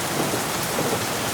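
Heavy rain pours steadily with a low rumble of thunder underneath, a dense, continuous stormy wash with no voices.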